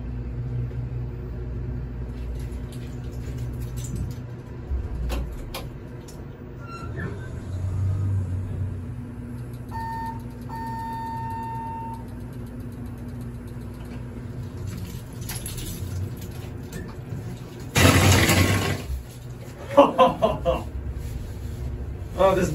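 A big whoopee cushion goes off inside a riding MRL hydraulic elevator: a loud, sputtering blast bursts out near the end over the low car rumble, followed by a second shorter burst, with a little talk around it.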